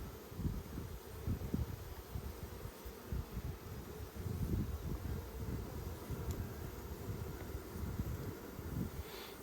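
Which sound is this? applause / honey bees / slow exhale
honey bees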